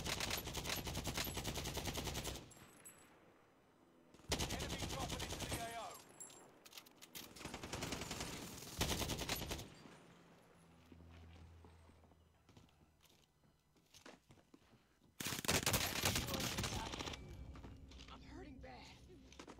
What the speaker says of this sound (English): The AK-47 is on and popping.